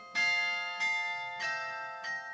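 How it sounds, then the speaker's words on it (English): Carillon bells in the Gävle bell tower ring four separate strokes at a slow, even pace, each a bright metallic tone with a long ringing decay, clear and isolated against quiet. "Because I play the carillon up in the bell tower."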